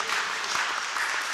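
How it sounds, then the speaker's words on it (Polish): Applause fills a county council session, a short dense burst of many hands clapping at once, steady and moderately loud with no voice over it. "wielkie brawa"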